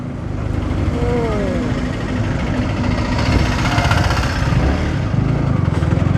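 A Yamaha R15 V3 motorcycle engine runs nearby in street traffic, a steady mid-pitched putter that grows louder and rougher, with brief horn-like tones and other road noise around it.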